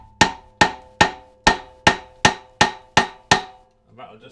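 A big hammer strikes a part of a Hayter Harrierette lawn mower to shock a seized bolt loose: nine sharp, evenly spaced metallic blows ring out loud and close, then a brief quiet rustle.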